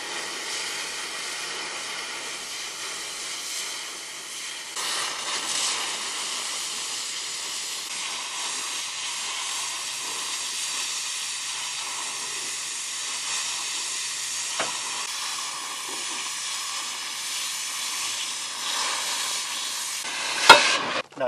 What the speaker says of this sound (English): I'll doll that up a little bit with the angle grinder